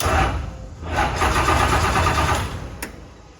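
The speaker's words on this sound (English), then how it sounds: "Let's see if it'll start." A new USMTS race car engine cranks loudly up close, with a brief rough burst, a short dip, then a sustained churning run before it fades near the end.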